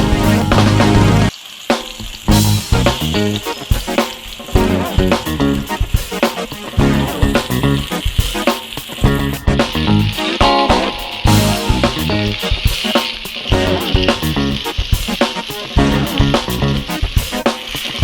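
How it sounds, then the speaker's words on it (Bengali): Eggplant slices fry in a pan with a loud, continuous sizzle and crackle, briefly dipping near the start before resuming steadily close up, with no talking. "হয়ে গেল বেগুন ভাজা"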